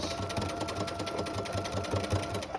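A sewing machine stitches fabric in quick, even bursts, a close, steady mechanical whir with rhythmic needle clatter running continuously without speech.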